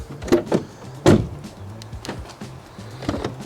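Several quick mechanical clunks of a Seat Ibiza's door locks actuating, faulty and working only intermittently, close by, spaced irregularly over a quiet background.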